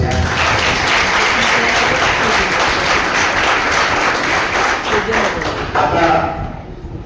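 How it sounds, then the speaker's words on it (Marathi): A large crowd of students gives the teachers loud, continuous applause at a Class 12 farewell ceremony in a junior college, and voices sound under it before the applause fades at the end. "त्यामुळे टाळ्या जोरदार असू द्या."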